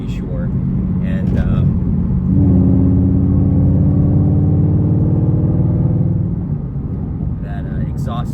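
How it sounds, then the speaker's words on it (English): Mercedes SLS AMG V8 exhaust swelling into a loud, steady droning rumble for several seconds, then easing back to a lower hum, with faint voices around it. "that exhaust note is pretty freaking awesome"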